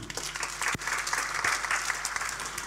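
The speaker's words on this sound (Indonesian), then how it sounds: "Tepuk tangan untuk kebenaran ini." A church congregation applauds during a sermon, steady clapping from many hands with a few sharper individual claps standing out.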